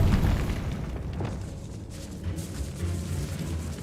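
A Bombarda spell blast in Hogwarts Legacy, cast in a decayed catacomb, erupts with a heavy low boom and then a sustained rumbling tail with scattered debris crackles.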